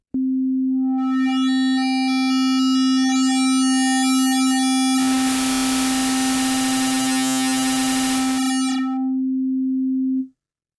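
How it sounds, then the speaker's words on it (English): A steady sine tone from a Yamaha Montage M synthesizer is bent by the peaks modifier, sweeping through buzzing, metallic, harsh distortion midway before returning to a pure tone and cutting off. "It makes the sound more metallic. In fact, we're bending the waves."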